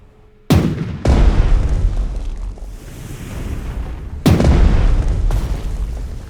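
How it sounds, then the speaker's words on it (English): Naval guns fire at coastal gun batteries in the Strategic Mind war game, two loud booming blasts a few seconds apart, each with a long rumbling tail, close and heavy with no talk. "Good shooting, trying to take out those coastal guns"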